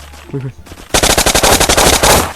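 Rapid automatic gunfire from the video game Block Post rattles in a fast burst of about a dozen shots, loud and close, following a brief murmur of voice.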